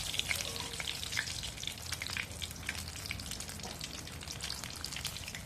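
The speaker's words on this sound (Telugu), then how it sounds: "ఇట్లా మంచిగా అటు ఇటు 2 సైడ్లు మంచిగా వేగాలి" Tomato bajji, battered fritters, frying in hot oil with a steady, dense crackling sizzle and scattered sharp pops throughout, close and fairly loud with no talking.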